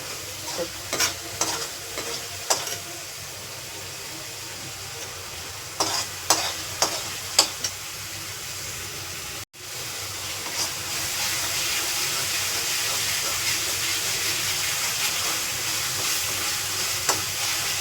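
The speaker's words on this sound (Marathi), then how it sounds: "चांगलं भाजून घेऊया आपण अद्रक लसूण आणि कांदा." Ginger, garlic and onion sautéing in a pan for chole, with a loud, continuous close sizzle and repeated sharp scraping strokes of a spoon stirring, brief clatters early on and a short break midway before the frying roars on.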